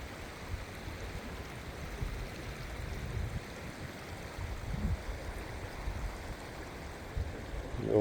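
Stream water washes through a gold prospecting pan outdoors in Indiana, giving a steady, low rushing and splashing that carries on throughout at moderate distance.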